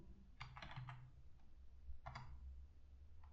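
Typing on a computer keyboard while writing HTML code: faint, close clicking keystrokes in two short bursts with a pause between, over a low steady background hum.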